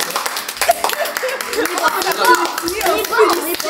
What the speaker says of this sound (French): un petit applaudissement pour la famille